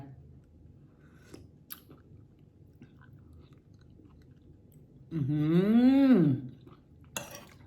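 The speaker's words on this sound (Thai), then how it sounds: "เดี๋ยวจะกินเห็ดมันปูให้ดูนะคะ" Crunchy blanched hed man pu mushrooms being chewed, a single loud wet bite-and-chew burst near the mic after a quiet stretch with a few faint clicks.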